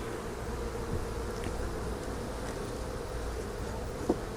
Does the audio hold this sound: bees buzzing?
yes